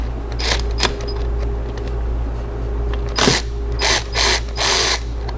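A hand ratchet works 13 mm bolts loose on a Jeep Liberty CRD alternator, giving several bursts of fast metallic clicking against a steady low background hum, close up and with no talking.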